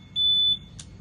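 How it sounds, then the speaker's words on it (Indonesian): A reed-switch burglar alarm set off as its magnet moves away gives one short, steady high electronic beep of about half a second, clear and close. A brief faint rustle follows against a quiet background. "ketika magnetnya jauh atau dibuka dengan maling, dia akan berbunyi."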